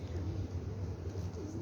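Pigeons cooing and fluttering close by at the old Jamia mosque in Hong Kong, fed a bowl of rice after dawn prayer, a steady murmur of low coos with a low background rumble.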